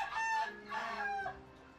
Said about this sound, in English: guys hear the chickens?